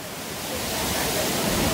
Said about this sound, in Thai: เวลาที่คลื่นซัดมาแรงๆค่ะมันจะทำให้เกิดเสียงเหมือนกับเสียงฟ้าร้องเลยค่ะ